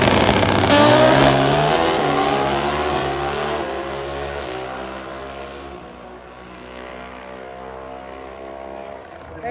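Pro Stock drag racing motorcycles launching at an NHRA race, a loud high-revving engine roar that peaks early and fades steadily into the distance as the bikes pull away, with a commentator talking over it.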